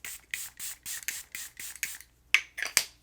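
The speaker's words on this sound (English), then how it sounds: "I'm going to try to reset it with the glass setting spray" Glass setting spray misted onto a face in a quick run of about a dozen short, soft pumps, each a brief airy puff, close and quiet, with no talking.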